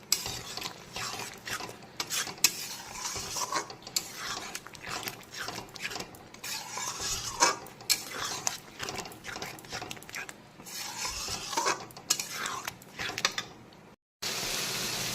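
Yogurt and spices are stirred in a pan while cooking for a prawn curry, with continuous scraping and rattling of a spoon against the pan at close range, the stirring irregular and fairly loud throughout.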